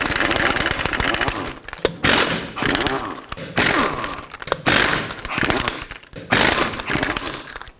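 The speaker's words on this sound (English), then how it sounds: "Now continue with your impact or tool of choice, 21mm socket, remove all the rest of your lug nuts" An impact wrench with a 21mm socket removes lug nuts from the front wheel of a 2012-2017 Toyota Camry, firing in loud repeated rattling bursts separated by short pauses.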